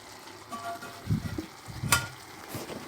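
Drained okra added to a hot pan of fried base for ekşili bamya brings a soft sizzle with a few stirring scrapes and clatters, close but moderate, rising in short bursts over a low background.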